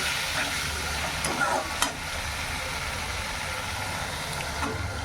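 Fried spice paste sizzles steadily in a pan for a fish curry, a broad constant hiss with a brief sharper splash or clatter midway as water goes in, no voices.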